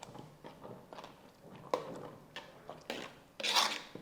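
A thick sabudana papad mixture with salt and cumin is stirred in a pan, making quiet, irregular rubbing and scraping strokes with a few sharper scrapes near the end, and no one talks.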